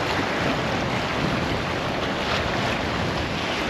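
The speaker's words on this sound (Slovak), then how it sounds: "Vlny fajnové" Waves wash on open water in a steady broadband rush, mixed with heavy wind buffeting the microphone and no voices.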